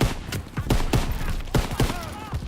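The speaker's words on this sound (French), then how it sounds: "Les PAC 38 tirent dessus." PAC 38 anti-tank guns firing during the Operation Cobra mission of Call of Duty WWII: a string of heavy, booming blasts in irregular succession over a dense battle din, with a faint voice briefly audible.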